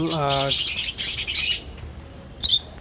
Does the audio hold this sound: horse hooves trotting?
no